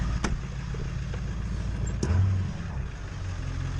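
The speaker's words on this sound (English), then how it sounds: "Give her a little revs, come off the high idle." Ford 7.3 Powerstroke diesel truck engine running in very cold weather, held at a steady low rumble with a slight rev swell midway, close and continuous with no talking.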